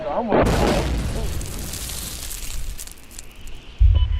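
A mortar shell explodes with a sudden loud boom and a rolling rumble that slowly fades, followed by a heavy low thud near the end, with a brief voice at the start.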